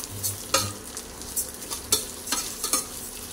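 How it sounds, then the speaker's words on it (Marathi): Rice stirred with roasted garlic in a hot pan gives a run of repeated scraping, rustling strokes over a soft frying sizzle, close and moderately loud, with no voices. "लसूण भाजलाय, आता यामध्ये घालूया तांदूळ आणि हलवून घेऊया चांगलं।"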